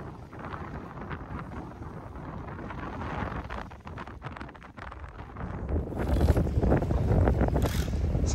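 Steady wind roars across the microphone on a sailboat running downwind with its head sails up, with a low rumble that grows louder and gustier toward the end.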